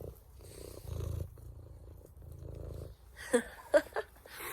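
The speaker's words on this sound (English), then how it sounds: "Can you hear that purring?" A soft, low rhythmic purr rises and falls with each breath, close by, followed by a few brief sharper rustling sounds near the end.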